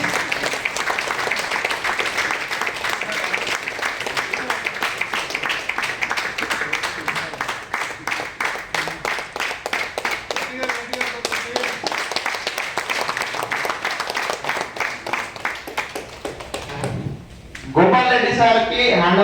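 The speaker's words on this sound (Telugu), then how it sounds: "మనం బాగా చప్పట్లు కొట్టచ్చు" An audience at an SBI Life meeting in Begumpet breaks into sustained, dense applause welcoming Gopal Reddy, the clapping steady and loud before fading, with a voice speaking near the end.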